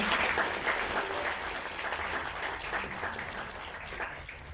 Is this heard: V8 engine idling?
no